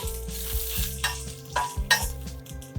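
Green chili and ginger fry in sesame oil for a pomegranate chutney, a steady close sizzle broken by several sharp scrapes and clacks of a spoon stirring the pan, with a low rhythmic hum running underneath.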